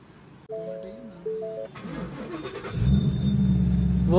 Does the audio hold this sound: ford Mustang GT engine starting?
yes